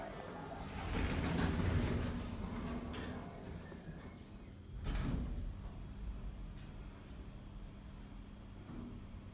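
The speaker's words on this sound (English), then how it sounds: "Doors closing." Lift doors at Quayside MediaCityUK sliding shut, a soft rumbling glide swelling over a couple of seconds, then a second thud and settling hum inside the car.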